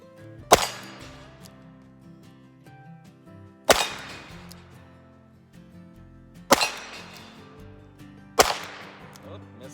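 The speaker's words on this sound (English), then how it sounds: "Let's do some shooting." Four sharp, loud shots from a Smith & Wesson 317-3 .22 LR revolver at an outdoor range, spaced a few seconds apart, each cracking cleanly and ringing briefly before fading.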